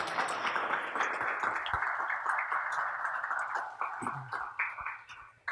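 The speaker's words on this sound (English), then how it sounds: "Can we give them a huge round of applause?" An audience at an evening tech-industry panel event applauds the panelists, a fairly faint, dense wash of clapping in a roomy space that thins out toward the end, heard alone without talk.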